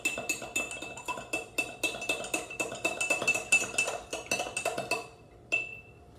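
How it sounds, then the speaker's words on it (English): A metal kitchen spoon stirs salt into vinegar in a container, making quick, regular clinks and scrapes with a steady rhythm, close and fairly quiet, ending in a last isolated clink. "And then stir the salt into the vinegar."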